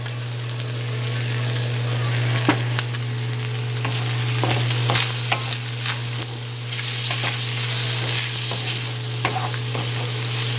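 Onions for chicken fried rice fry in a pan with a loud, constant sizzle, punctuated by sharp clicks and scrapes of stirring, with a steady hum underneath and no talking.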